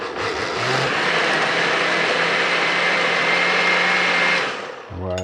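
A blender whirs steadily for gazpacho with basil leaves in the jar, a loud continuous motor drone with a faint low hum, running about four seconds before spinning down and stopping.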